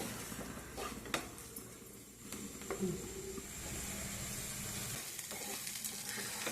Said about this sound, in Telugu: ఒక గ్లాసు బొంబాయి రవ్వ సుజీ రవ్వ అంటారు కదా అది అనమాట వేయించుదాం